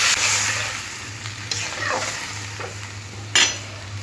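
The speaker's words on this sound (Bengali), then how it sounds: "এবারে জল দিয়ে দেব" Water goes into a pan of Bengali fish curry (chara macher jhol) cooking on a stove, bringing a loud sizzle and bubbling with scraping stirs and a sharp clink near the end over a low steady hum.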